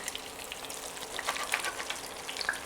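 Keto salmon patties fry in a pan with a soft, steady sizzle and faint scattered pops, fairly quiet and continuous, with no one talking.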